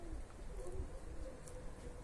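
Soft, low cooing of about 40 to 50 pigeons in a loft repeats steadily amid a murmuring background, fairly quiet and somewhat distant.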